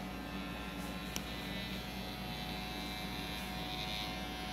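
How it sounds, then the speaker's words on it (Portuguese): Electric hair clippers trace the hairline contour during a men's disconnected haircut, giving a constant, fairly quiet buzz with one brief click. "Eu vou trabalhar o contorno com a maquininha"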